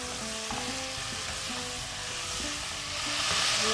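Whole spices sizzle and crackle steadily in hot oil for rogan josh, a dense continuous frying hiss with occasional stirring scrapes, close and growing slightly louder toward the end.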